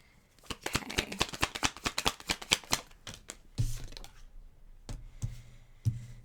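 Tarot cards being shuffled, a rapid run of crisp flicking riffles for about three seconds, then a few softer scattered taps and rustles of the deck.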